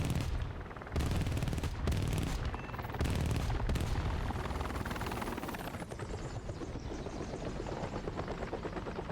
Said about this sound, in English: That's a heli I hear.